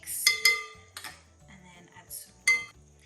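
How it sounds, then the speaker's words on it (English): A spoon stirs blueberry cake donut batter of flour in a bowl, giving a few sharp clinks and scrapes against the bowl in separate bursts, fairly close and unaccompanied by talk. "Just give it a bit of a stir."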